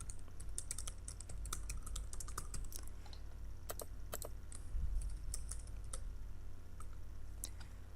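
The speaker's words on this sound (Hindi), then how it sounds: "मैं फेसबुक टाइप कर देता हूँ या इसी तरह मैं यूट्यूब के हवाले से कुछ टाइप कर देता हूँ" Someone types on a computer keyboard, a steady close-up patter of key taps broken by a few short pauses and louder strikes, over a low room hum.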